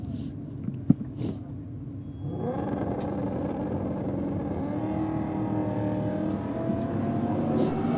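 A big 6-litre Holden V Commodore at a Sydney dragway drag race roars into a loud, building engine drone after a couple of sharp clicks and a quieter lead-in, holding strong to the end.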